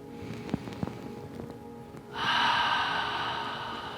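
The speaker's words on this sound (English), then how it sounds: "let's take a nice, long, cleansing, deep breath." A long, deep cleansing breath taken during a seated guided meditation, a quiet airy rush that swells abruptly about halfway through and holds steady, fairly close and alone after a few faint clicks.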